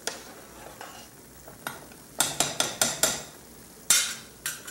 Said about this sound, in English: And stir.